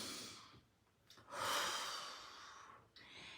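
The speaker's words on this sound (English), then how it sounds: "So right now I want you to take a really deep breath." A person draws a deep breath, a long airy inhale followed by a slow exhale, close and alone.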